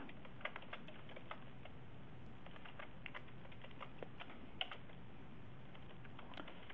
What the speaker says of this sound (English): I am having a hard time typing today.